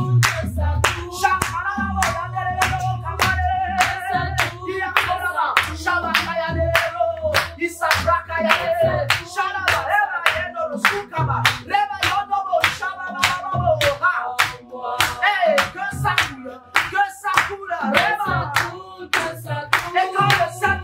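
A church congregation claps along to French-language worship music, steady rhythmic hand claps ringing out continuously and loudly over singing and instruments throughout.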